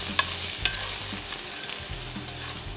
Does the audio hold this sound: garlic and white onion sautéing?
yes